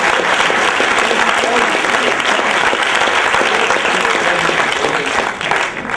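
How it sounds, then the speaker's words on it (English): A live audience at a comedy show about hot peppers and spicy sauces breaks into loud, sustained applause, dense and steady for the full six seconds before easing slightly at the end. "Let's give them a round of applause."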